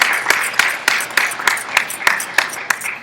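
Hand claps for a dancer who has just performed at a spiritual academy gathering. The claps land sharply at a steady, even pace, about ten of them, close and moderately loud like a small audience clapping in rhythm.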